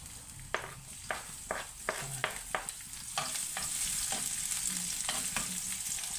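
Sliced onion frying in hot cooking oil, a steady close sizzle with a series of sharp stirring scrapes and clicks at a regular pace, growing a little louder and denser halfway through.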